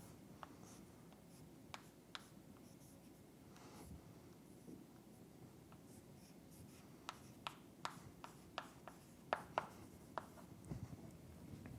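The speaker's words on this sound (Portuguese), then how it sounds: "eu vou escrever algo parecido com isso" Writing on a board comes through as faint scratchy strokes with a series of sharp taps and clicks, sparse at first and then quicker, over a quiet room with no talking.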